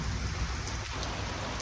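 Steady rain pours down on surfaces, a dense continuous hiss of drops close by with no pauses.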